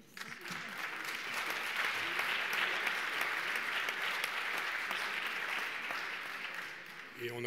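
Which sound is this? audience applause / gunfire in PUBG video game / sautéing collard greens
audience applause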